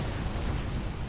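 Explosive cannon fire and impacts from a Rise of the Reds strategy game battle as Inferno cannons shell a Panther tank: a dense, continuous low rumble of booms with no clear gaps, steady and loud.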